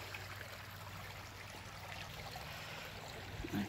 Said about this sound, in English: stones here that are creating just a little set of rapids in this little creek.